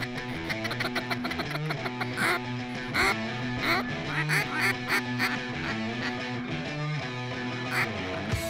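Ducks quack repeatedly near decoys set upwind of a hunting blind, a busy overlapping chorus of loud nasal calls with some honking mixed in.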